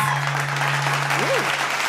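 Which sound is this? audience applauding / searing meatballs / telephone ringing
audience applauding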